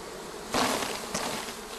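Honey bees buzzing close by, a dense continuous hum with two brief louder swells as bees pass near.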